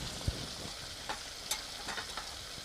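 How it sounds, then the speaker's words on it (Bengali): Onion and green chili sizzle and crackle in hot oil, with a few scraping stirs and pops close up, fairly quiet overall. "তেলটা ভালো করে ভাজা হয়ে গেছে আমি দিচ্ছি পেঁয়াজ কাঁচা লঙ্কা কুচি"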